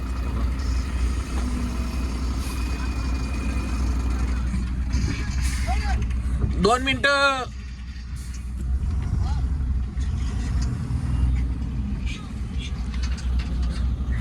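A dumper truck being driven downhill, with a steady low engine drone and road rumble throughout, a brief hiss and squeal in the middle, and someone speaking briefly over it.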